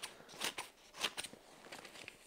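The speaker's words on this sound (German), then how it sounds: "ob diese alte stumpfe Schere jetzt wieder richtig schneidet" Old blunt scissors, freshly sharpened on a Weldinger NSM 200 Vario wet grinder, snip through paper in a few quick crisp cuts, close and fairly quiet, with no talking.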